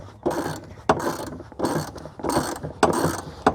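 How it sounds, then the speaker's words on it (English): A socket wrench ratchet clicks in several quick bursts while loosening a bolt on the third-row seat of a 2019 Ford Flex SEL, close and clear with short pauses between strokes. "you can re-put your socket or your wrench and continue to turn until it comes off"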